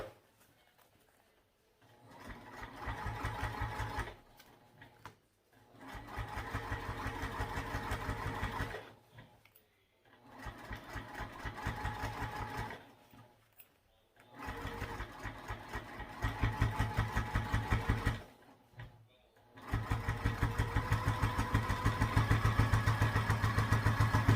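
A sewing machine topstitching a sling bag runs in several long, steady whirring bursts, each a few seconds long, separated by brief quiet pauses, close and clear with no talk.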